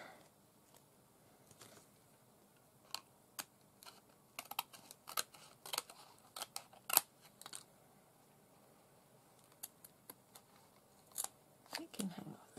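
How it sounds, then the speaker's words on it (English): Scissors trim the edges of a paper craft tag in a series of short, crisp snips scattered through the quiet, some single and some in quick clusters, close and fairly soft. "let's trim everything off to hope it all stays on."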